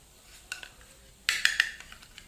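A spoon clinks and scrapes in a bowl while homemade face pack ingredients are mixed at home: a couple of light taps, then a brighter cluster of sharp clinks, close and fairly quiet.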